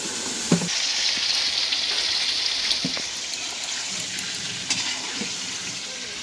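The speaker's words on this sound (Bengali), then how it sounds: "জালটা কমায় একেবারে হালকা জালে আস্তে আস্তে করে ভাজতেছি" Pointed gourd (potol) frying slowly in a pan over a low flame, giving a continuous close hiss and sizzle with a few faint clinks, with no talking.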